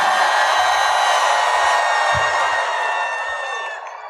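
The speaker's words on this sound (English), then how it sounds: "Everybody stand up, yell, clap, and cheer, make some noise so it looks like an amazing photo" Convention panel audience for the Lord of the Rings cast at C2E2 2025 yelling, cheering and clapping all at once, a loud, continuous roar that holds steady before easing off slightly at the end.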